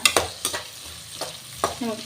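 Whole spices and garam masala fry in hot oil for an egg gravy, with a low sizzle broken by a few sharp scrapes and clanks of a ladle stirring the pan, close and without talk.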